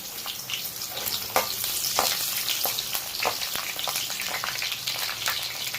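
Fenugreek seeds and crushed garlic fry in hot oil, giving a steady close sizzle with sharp crackles and pops throughout, alone without voices.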